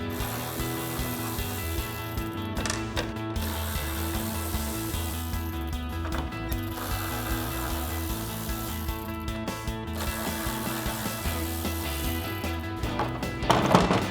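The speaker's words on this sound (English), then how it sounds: "Grab our ratchet T20 socket," A ratchet with a T20 socket backing out tail light screws on a 2021-2023 Ford F-150, a steady run of fine mechanical clicking with brief pauses and a louder burst near the end.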